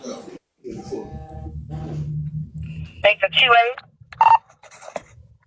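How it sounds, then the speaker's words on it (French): A mobile phone rings during a spoken discussion, with short bursts of electronic ringtone mixed in with a man's speech and breathing. "c'est mon téléphone qui sonne."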